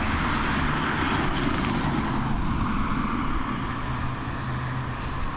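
ATR 72-600 turboprop airliner on final descent into Dublin Airport in gusty wind, a broad steady engine and propeller roar with wind noise, continuous and fairly loud, no voices.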